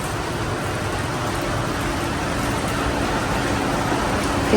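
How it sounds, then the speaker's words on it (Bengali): Rain falls steadily in the deep of night, a dense, even hiss that stays constant and fairly loud throughout, with no voices. "বৃষ্টি কিন্তু ভাবে পড়ে যাচ্ছে থামে নাই"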